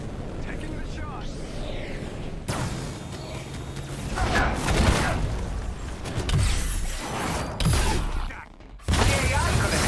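Iron Man fires a shot in the Marvel's Avengers video game. Dense, booming blasts and crackling explosions fill the scene with loud, rumbling bursts, while game voices talk over the action.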